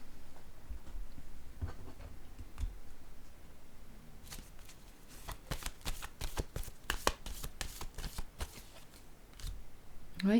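A deck of tarot-style cards is shuffled by hand: quiet handling and a few soft taps at first, then a rapid run of crisp riffling flutters, close and clear with no talk.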